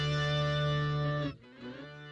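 A guitar played through the PD Space Guitar iOS app with its deep space reverb rings out as a sustained, heavily processed tone, then cuts off abruptly and returns more softly.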